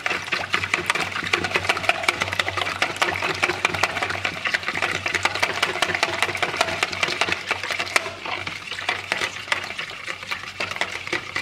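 An electric mixer whirs continuously as it beats eggs for a coffee mousse, a steady buzzing drone with a faint rattle of the beaters against the bowl, moderately close and alone without talk.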